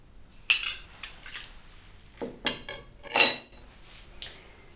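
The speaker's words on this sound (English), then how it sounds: "And now we're going to add 4 flat tablespoons of sugar to the yolks." Metal spoons clink against a bowl as tablespoons of sugar go into egg yolks for tiramisu, a handful of sharp taps and scrapes spaced unevenly, close and fairly quiet with no talking.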